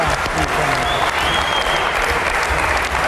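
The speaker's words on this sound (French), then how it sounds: "Très applaudi, hein, Henri Lacroix." Spectators at a pétanque triplette match applaud a player after a shot, a sustained wash of clapping from a sizable crowd. A faint whistle or voice rises briefly above the steady applause.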